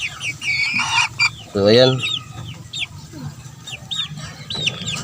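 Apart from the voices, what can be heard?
chickens clucking in cages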